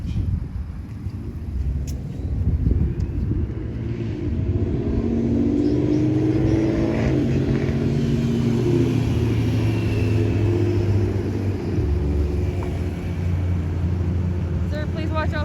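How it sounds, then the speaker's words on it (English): Steady road traffic rumbling past at a roadside during a sidewalk confrontation, a continuous low engine drone swelling and easing as vehicles go by, with people talking over it throughout. "please watch out for traffic"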